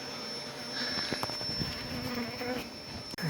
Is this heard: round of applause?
no